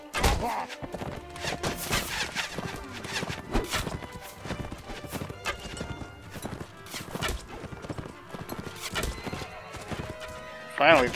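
Horse hooves clop in rapid, uneven bursts alongside a loud neigh and thudding battle impacts in the video game Mount and Blade Warband, with someone talking over the chaotic cavalry fight.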